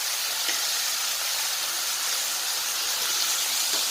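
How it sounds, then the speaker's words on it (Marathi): Ginger garlic paste hits a hot pan and sizzles with a steady, close, even hiss that keeps going with no pauses. "तर मी अद्रक लसूणची पेस्ट घालत आहे."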